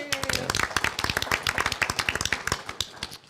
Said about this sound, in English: big round of applause for Nicholas Peasley and all the work that he's done